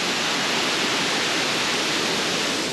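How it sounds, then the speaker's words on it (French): A tall waterfall in Colombia roars as a constant, dense rush of falling water, loud and unbroken, with no voices. "il y a une cascade pardon, vraiment magnifique"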